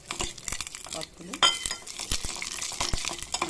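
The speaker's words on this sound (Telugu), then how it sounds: "తాలింపు వేసుకోవడమే" Spices hit hot oil for tempering a dry ginger and black pepper rasam, crackling and sputtering in quick, sharp bursts. Occasional metallic scrapes and stirring sounds come through close by.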